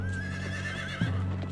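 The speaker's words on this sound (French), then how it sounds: "Mais les chevaux espagnols se brisent les jambes au milieu des pierres." A horse whinnies in a long wavering neigh close by, followed by a short snort and the clop of hooves, part of a cavalry scene with Spanish horses in a dry, stony riverbed.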